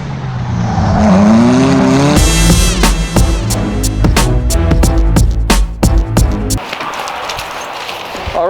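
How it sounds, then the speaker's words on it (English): A BMW-powered kart drifts through a blizzard, its engine revving hard and rising in pitch, then breaking into rapid stuttering pulses and skidding tire noise, loud and close throughout. "let's go drifting"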